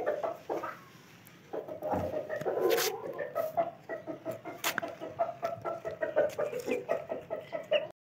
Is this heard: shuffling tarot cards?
no